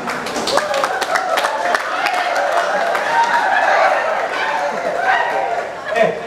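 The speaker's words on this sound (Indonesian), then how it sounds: "Tepuk tangan untuk Mamasan ini" Audience applause for Mamasa, a dense patter of clapping running steadily throughout, mixed with crowd chatter and voices.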